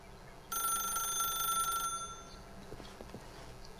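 A telephone rings in The Stanley Parable video game, a bright trilling electronic ring lasting over a second against quiet room ambience, followed by a few soft clicks.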